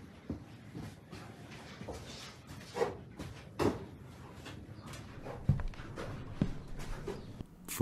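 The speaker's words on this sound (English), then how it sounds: "Footsteps are heard coming from within the barn, even though there's nobody else around." Footsteps inside a barn, a sparse series of soft, irregular thuds and creaks, faint and fairly close in a quiet space.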